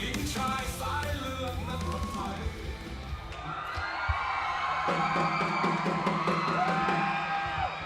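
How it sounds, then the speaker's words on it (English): A big arena crowd at a Thai Fight muay thai event roars, yells and whoops continuously, with musical tones and a commentator-like voice running through the loud, dense din. "You gotta love that crowd"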